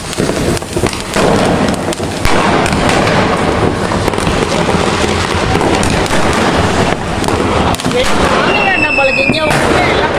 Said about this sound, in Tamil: ஈவினிங் பார்த்து பட்டாசு வெடிக்கிறத பார்க்கலாம்